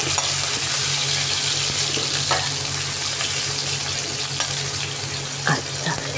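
Vegetables and chillies fry in hot oil for a Bengali hilsa fish curry, making a steady close sizzle with occasional scrapes and clinks as they are stirred.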